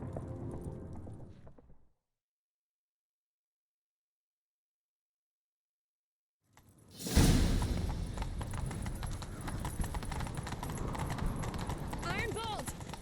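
Horses gallop in a steady clip-clop rhythm after a stretch of silence, loud and close, with a horse whinnying and people shouting over the hoofbeats, in the modded video game The Witcher 3.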